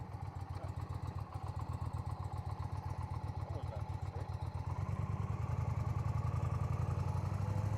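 Motorcycle engine in first gear pulling away slowly at a riding practice course, a steady close low rumble with rhythmic pulsing that swells as the throttle loads midway.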